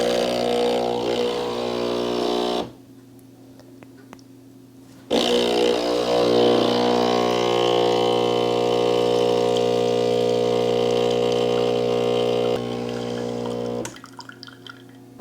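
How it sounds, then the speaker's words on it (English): Casabrews 5700GENSE espresso machine pump droning with a steady loud hum, stopping briefly, then resuming at full strength for a long stretch before dropping lower and cutting off into faint drips. "now let's put our tamped espresso into the machine"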